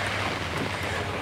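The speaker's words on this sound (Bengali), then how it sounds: "প্রচণ্ড বৃষ্টি" Heavy rain pours in Bali, heard as a dense, even hiss of falling water that stays steady and moderately loud throughout the short stretch, with no talking.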